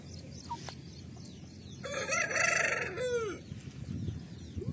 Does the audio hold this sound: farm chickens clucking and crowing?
yes